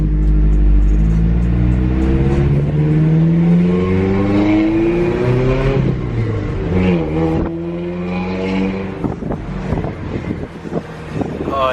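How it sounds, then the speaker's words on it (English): Exhaust of a lowered minitruck while driving, a loud close engine drone rising and falling through gear changes, with wind buffeting the microphone and no talking. "Driving a lower truck and having that exhaust."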